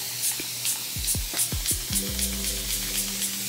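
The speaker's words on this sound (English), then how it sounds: "I'm gonna take my spray bottle," Plastic hair spray bottle misting water onto a wig during styling, giving a rapid series of short, close hissing sprays in an even rhythm, with faint handling noises underneath.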